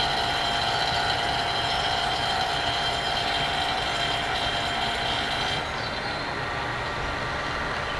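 AC vacuum pump running while evacuating an air-conditioning system, a steady loud mechanical drone with constant whine and rattle, unchanging throughout and heard alone.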